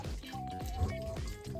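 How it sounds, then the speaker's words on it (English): Water poured over smashed boiled red beans while making smooth red bean paste: soft drips and liquid splashing close by, with a faint voice and low tonal background sound running underneath. "Once I smash the beans for a while, I pour water over them."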